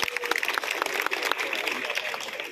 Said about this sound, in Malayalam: നല്ലൊരു കൈയടി കൊടുക്കണ്ടേ